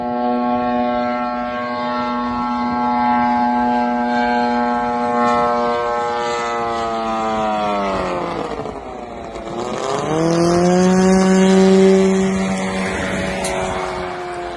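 A Shahed-type drone engine runs on a test rig mounted atop a jeep, giving a loud, steady buzzing drone with strong harmonics that sags in pitch and then climbs back up as the throttle changes, with no talking.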